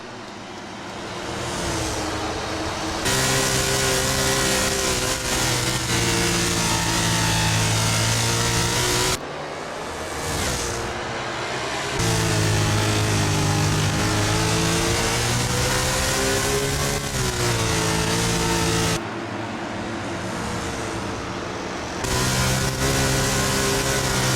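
A stock car engine in NASCAR Heat 5 revs hard and loud, surging through long sustained pulls broken by brief drops and lifts, a near, continuous mechanical roar with no talk.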